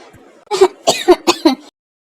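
A person fakes a cough with four or five short, harsh, throaty bursts, loud and close, then stops.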